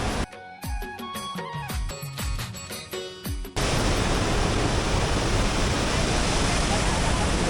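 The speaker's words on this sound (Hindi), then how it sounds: "नेतरहाट टूर के अपने दूसरे दिन पे हम लोग अभी हैं लोध वाटरफॉल में। झरना काफ़ी ऊंचा है" Lodh waterfall in Netarhat, a tall forest falls, roars as steady broadband rushing water that takes over after a few seconds of other sound, dense and constant.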